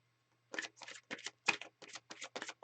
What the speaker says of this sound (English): I have to shuffle again.